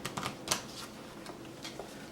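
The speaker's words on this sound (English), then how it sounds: "Quick shuffle." A quick burst of crisp card riffling and snapping, close by, shuffling a Warmonger card game deck, with a few light taps and flicks afterward.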